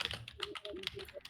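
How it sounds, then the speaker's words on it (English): Quick, faint clicks of typing on a computer keyboard tap out an uneven run of keystrokes, with voices murmuring softly underneath. "I'm typing. It's so loud!"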